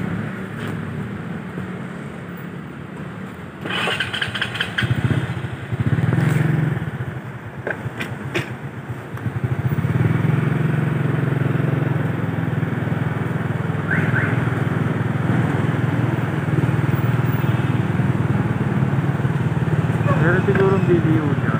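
A motorcycle rolls into a mall's parking area, its engine idling and revving in a steady low drone that grows louder partway through, with voices talking over it.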